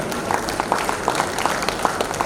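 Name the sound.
clapping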